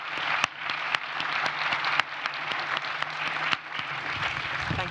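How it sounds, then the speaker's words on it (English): Audience applauding the distinguished speakers at the close of a panel on growth in emerging markets; steady, dense clapping with a few sharp louder claps standing out, sustained for several seconds. "Let's hear a round of applause for our distinguished speakers"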